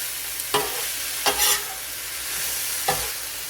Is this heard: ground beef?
yes